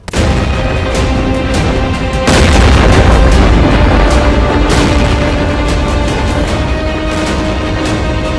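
Bombing in Gaza produces loud, dense booms and thuds in a continuous barrage, rumbling heavily over several seconds with no voices.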